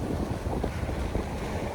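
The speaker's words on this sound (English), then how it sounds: "It's a bit windy" Gusting wind buffets the microphone on an open beach by the sea, a steady low rumble filling the whole short stretch with no voices.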